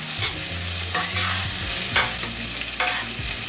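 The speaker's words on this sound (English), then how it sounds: "we'll keep cooking this onion till the time it becomes light brown" Onion fries in a pan while being stirred, with a loud continuous sizzle, repeated scraping sweeps of the spoon and low clatter, close up and without talk.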